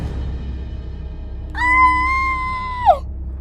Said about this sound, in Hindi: नीलू के कान में किसी के चिल्लाने की आवाज आती है।